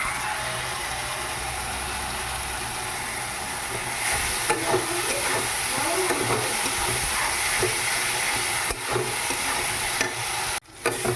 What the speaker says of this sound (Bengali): আদা রসুনের পেস্ট দিয়ে দিলাম। দিয়ে ভালো করে কষাচ্ছি।